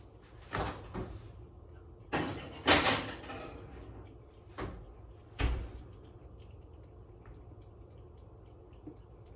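Kitchen oven door opened and closed to slide a dish inside, a few sharp clunks and a louder rattling bang close by, followed by quieter handling sounds.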